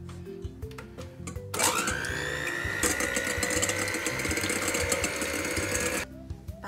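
An electric hand mixer whips warmed whole eggs for a lemon pound cake, switching on with a steady high whine that holds for several seconds before cutting off, with faint clinks around it.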